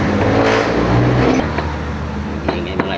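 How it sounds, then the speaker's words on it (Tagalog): A jeep engine runs loud and close, rumbling with a brief rev before settling into a lower idle, with a few faint knocks toward the end. "Ingay mga idol ang jeep"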